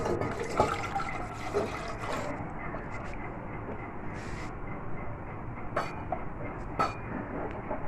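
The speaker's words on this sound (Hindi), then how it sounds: "अब मैं पतीली रखती हूँ इधर। दूध डालती हूँ उसमें।" Milk poured from a container into a cooking pot while making Kashmiri tea, a continuous close liquid rush with faint clinks of the pot, no speech.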